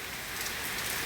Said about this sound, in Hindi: बारिश में यहाँ तक बारिश आ रही है